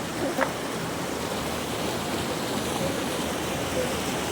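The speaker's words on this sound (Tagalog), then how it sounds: "Yun lang, malakas yung agos." Strong river current rushing steadily at a river crossing, a continuous broadband roar of moving water throughout, fairly close and even, with no clear talk over it.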